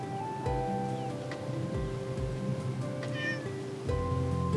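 A cat out on a walk among grass and dandelions meows repeatedly, several drawn-out, tonal cries close to the listener over quiet outdoor background.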